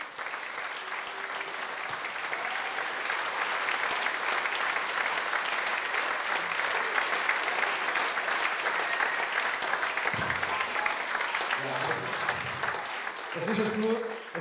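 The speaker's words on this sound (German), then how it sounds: "bitte ich einfach mal um einen kräftigen Applaus für dieses tolle Team" A church congregation at a children's Bible days closing service applauds the team with steady, full clapping for about twelve seconds. Near the end the clapping thins out and a few voices break through.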